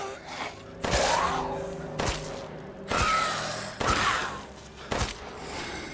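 Gunfire in Resident Evil Village, four or five sharp loud shots spaced about a second apart, each followed by a decaying reverberant tail, with low game ambience between them.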